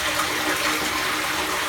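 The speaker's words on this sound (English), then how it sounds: "little trickle of water coming from this pond" A warm trickle of water runs from a pond into a large, roughly 30-inch concrete drainage pipe, a steady, fairly loud rushing wash with no break.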